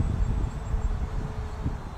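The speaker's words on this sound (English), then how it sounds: "the wind is getting pretty severe right now" Strong outdoor wind buffeting a microphone, a low continuous rumble with uneven gusts throughout.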